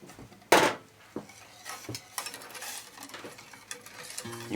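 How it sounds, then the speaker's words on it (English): Custard mix being stirred into 300 ml of lukewarm milk in a pot, with scattered light scrapes and taps of a utensil against the pot, one sharper knock early on, fairly close and fairly quiet. "We're adding the mix and then we will stir until it thickens."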